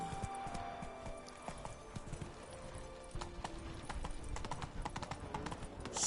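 Horse hooves clip-clop at a steady trot in The Witcher 3, rhythmic and close, over a low game ambience with a faint whinny.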